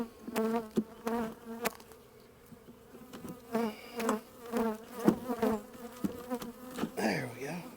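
Honey bees buzz in an opened hive box during the first spring inspection, a close wavering drone that swells and fades as individual bees pass near, with a brief voice at the end.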